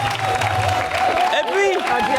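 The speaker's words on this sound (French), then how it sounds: "On applaudit pour ailleurs, s'il vous plaît." Applause from a studio audience at a live football debrief show, a brisk, fairly close burst of clapping mixed with a voice speaking over it.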